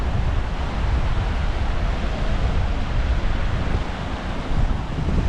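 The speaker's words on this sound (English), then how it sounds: "This is at the base of Harper Creek Falls." Harper Creek Falls waterfall in Pisgah National Forest, heard from its base as a steady broad roaring rush of falling water mixed with breezy wind, loud and unbroken throughout with no talk.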